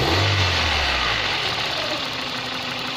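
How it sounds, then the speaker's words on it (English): A Toyota Starlet engine idles with a steady, even hum and faint rhythmic ticking pulses from the fuel injectors, close by and continuous. "This engine is so quiet you can actually hear each individual pulse"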